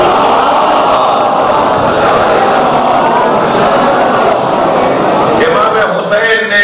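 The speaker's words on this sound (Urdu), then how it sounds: "بھائی جتنی زور سے انہوں نے نعرے کا صلوات کا کہا ہے" A large crowd chants salawat loudly and steadily in a religious gathering, a dense, continuous roar of many voices at full volume throughout.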